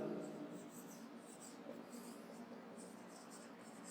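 Someone writes out a Class 10 quadratic-equation word problem about a triangle's area. The pen scratches softly and steadily with small strokes, and a faint voice runs under it.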